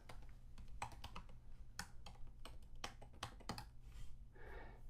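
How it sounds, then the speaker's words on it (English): Steady, irregular clatter of keys being typed on a computer keyboard, close and fairly quiet, with no talking. "The next thing we need to do is to type in the appropriate text for each one of these."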